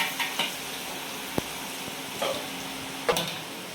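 Boondi batter dropping into hot oil, a continuous soft sizzle broken by a few sharp ticks and brief bursts of frying, with no voices.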